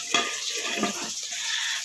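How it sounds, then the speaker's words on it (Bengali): Pointed gourd (potol) pieces fry in a home kitchen pan, giving a steady, close sizzle with a few soft scraping stirs and light clinks of a utensil against the metal. "এই দেখো পটল হচ্ছে, পটল ভাজা হচ্ছে"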